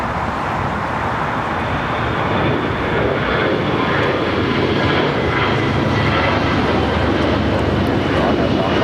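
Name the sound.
American Airlines Airbus A321 jet taking off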